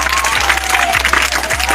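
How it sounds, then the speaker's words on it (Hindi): Schoolchildren in a Jharkhand school audience clap loudly together during a quiz game, a dense continuous burst of applause with a low steady hum beneath. "जोरदार ताली बजाइए उनके लिए।"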